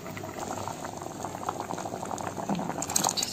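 Chickpeas (chole) boiling in a pot after a gram-flour and cornflour slurry is stirred in, bubbling steadily and close up with a continuous simmering gurgle, no voices.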